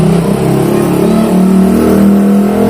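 A nearby motorbike engine revs steadily and loudly, a dense continuous drone that shifts slightly in pitch with no voices over it.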